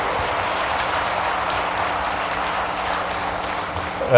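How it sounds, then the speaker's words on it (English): An audience at the JEF forum 2008 applauds its panelists, a soft, even patter of clapping that carries steadily for a few seconds before a louder bump at the very end. "A round of applause for our panelists"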